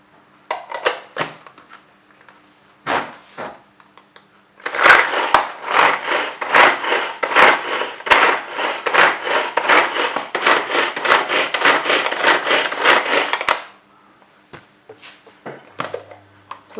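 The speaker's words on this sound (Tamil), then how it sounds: "தக்காளி நறுக்கியாச்சு." A vegetable chopper works through tomatoes in a rapid, steady run of rattling chops lasting about nine seconds, with a few isolated clicks before and after.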